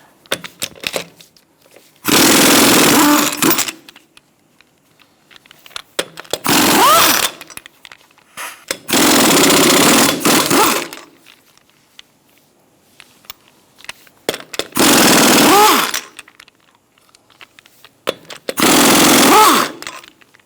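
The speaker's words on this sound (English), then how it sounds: "Using a 21mm socket, we're going to remove our lug nuts." A pneumatic impact wrench with a 21mm socket rattles loudly in five separate bursts, each lasting about a second or two, as lug nuts come off the front wheel of a 2002-2006 Toyota Camry. Quiet pauses with faint handling noises separate the bursts.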